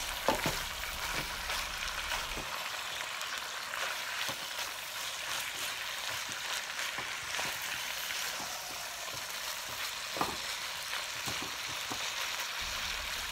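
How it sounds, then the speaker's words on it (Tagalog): Beef and vegetables sizzle steadily in a hot pan while a utensil stirs them, giving a continuous frying hiss broken by occasional scrapes and taps from the stirring. Nobody speaks. "Mix lang po natin together ang ating pong beef at ang ating pong mga vegetables."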